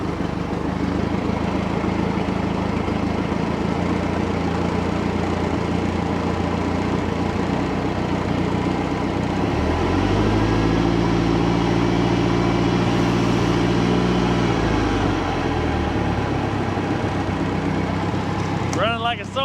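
The outboard engine of a 1967 StarCraft Holiday boat idles with a steady, even low hum that runs throughout, its pitch lifting briefly in the middle as the revs come up slightly before settling back.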